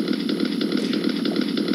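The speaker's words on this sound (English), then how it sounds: "Oh my god, you have a chainsaw!" A chainsaw in a Roblox video game buzzes in a steady, rapidly pulsing whine, loud and uninterrupted for a short burst.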